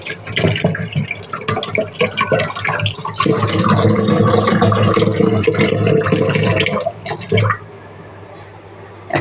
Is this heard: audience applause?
no